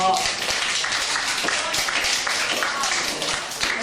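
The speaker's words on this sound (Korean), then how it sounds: "이 친구 박수 한번 주세요." Students in a history lecture at an international school in Hong Kong applaud a classmate, a dense, even patter of many hands clapping close by for several seconds, with a voice briefly heard.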